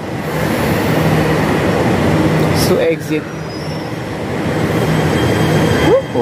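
A Jakarta MRT train at Haji Nawi station gives a loud, steady rumble and hum close by, with a brief dip midway and a rising squeal near the end, while someone talks over it.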